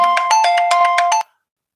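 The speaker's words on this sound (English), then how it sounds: "This my phone ringing." An electronic phone ringtone plays a rapid pulsing pattern of bright tones for about a second, then cuts off abruptly into silence.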